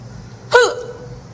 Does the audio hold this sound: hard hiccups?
yes